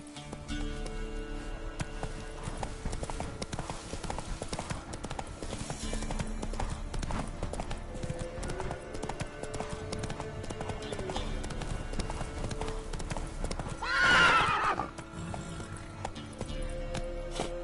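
Roach, a horse in The Witcher 3 video game, gallops with steady rapid hoofbeats throughout, a brief louder whinny-like burst near the end over constant game ambience.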